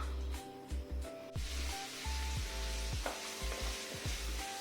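Salted, marinated mackerel frying in a pan, a continuous close sizzle broken by repeated clattering stirs and scrapes.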